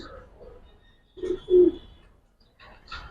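Female Giribaz pigeons coo, giving a few low throaty coos close by, with a short louder burst in the middle and softer calls around it.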